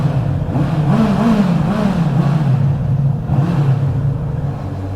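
A Honda CB650R four-cylinder motorcycle pulls hard on a test ride, its engine note rising and falling in pitch through several surges, close and loud with no talk.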